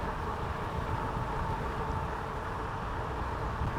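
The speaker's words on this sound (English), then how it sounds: "it sure is windy today" Steady wind buffeting the microphone, a constant low rumbling roar with no pauses, moderately loud throughout.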